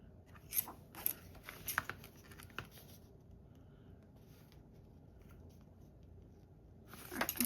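Scissors snip through paper for a purple handmade journal, trimming off a top section: a few crisp, close cuts in a quick cluster near the start, then a quieter stretch of faint handling noise before another burst of snips.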